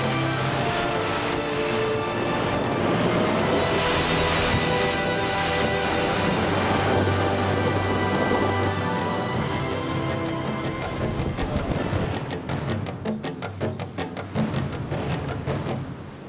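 Hurricane Ike's storm batters the Galveston coast with a loud, continuous roar of wind and surf. The churning noise persists throughout and turns choppier and more broken toward the end.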